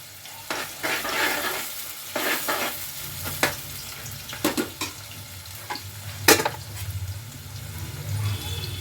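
Bay leaves, cinnamon, star anise, shahi jeera, cardamom and cloves crackle in hot oil in a pot for bagara rice, a low sizzle punctuated by sharp stirring clinks and scrapes of a spoon against the pot.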